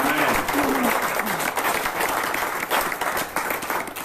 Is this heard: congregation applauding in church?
yes